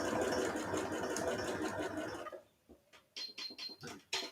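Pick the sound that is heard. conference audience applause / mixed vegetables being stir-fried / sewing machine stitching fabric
sewing machine stitching fabric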